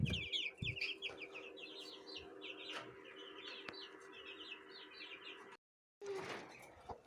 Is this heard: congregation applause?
no